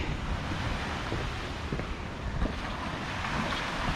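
Waves washing onto the Lake Erie shore at a summer resort beach, a loud, continuous broadband wash with wind buffeting the microphone and no voices.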